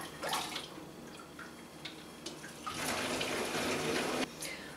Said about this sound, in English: going to start pouring this back in the jug through the strainer.